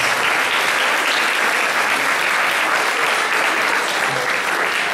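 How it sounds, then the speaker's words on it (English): Members of an eighth-grade graduating class, standing and facing the audience, applaud them with loud, dense clapping that holds steady for the full five seconds, filling the hall. "give the audience a round of applause for supporting you the last couple"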